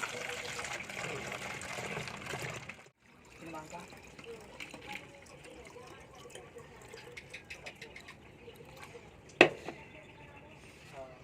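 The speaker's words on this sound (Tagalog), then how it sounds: "lagyan natin ng tubig" Water runs and splashes into a 1.5 liter plastic bottle, a steady filling stream with a sharp knock near the end, close by, with quiet voices talking in the background.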